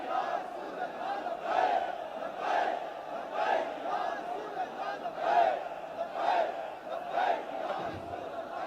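A large crowd chants the Takbir slogan in repeated rhythmic bursts roughly every second, a massed roar of voices at a religious gathering, steady and fairly loud throughout.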